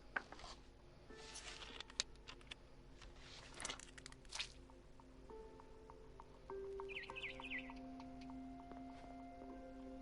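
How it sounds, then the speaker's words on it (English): A barn swallow chirps outside a window in the game What Remains of Edith Finch, giving faint, scattered tweets over a quiet ambient background with soft tonal notes. "Then I heard chirping outside my window."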